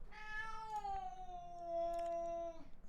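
A single long, drawn-out meow from a cat indoors, close and clear against a quiet room, falling slightly in pitch before it ends.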